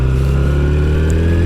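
A Kawasaki Ninja ZX6R 600cc sport bike engine drones loud and close at around 6,000 rpm, a dense, steady, buzzing roar with pitch rising slightly as it accelerates.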